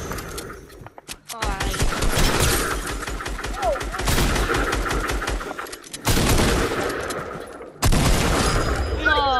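Loud, rapid bursts of video game gunfire, including shotgun blasts, on an old map, with heavy overlapping shots and booms throughout, a brief drop to near silence in between, and voices talking over the action.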